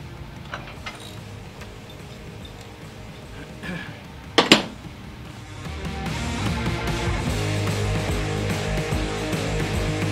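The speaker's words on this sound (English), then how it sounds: "I'm going to take out this pinch bolt right here." Metal tools clink against parts as a pinch bolt is removed during a Harley-Davidson Heritage Softail teardown, with a few sharp isolated clinks and then a steadier mechanical hum building in the second half.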